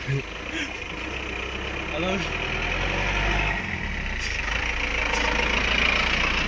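A motorbike rolls down a slope on a hill road at Yercaud, its engine a steady low hum with broadband wind rush. Faint voices come through briefly near the start.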